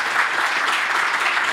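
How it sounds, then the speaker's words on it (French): Audience applause, a dense and even burst of many hands clapping, loud and close, lasting through the short stretch with no speech over it. "Un tonnerre d'applaudissements quand même pour les copains de Utip."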